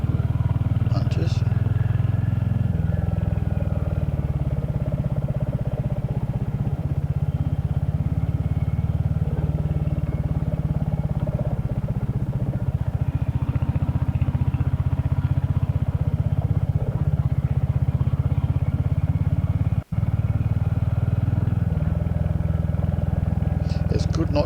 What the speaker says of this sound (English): It helps having a good bike, of course, to ride on.